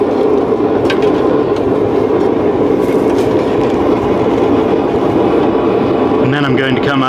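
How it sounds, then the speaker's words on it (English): A belt grinder works on a hand tool with a loud, unbroken abrasive whir that stays at full strength throughout, with a voice speaking underneath. "going to just give it a little lick on the whatchamacallit, belt grinder."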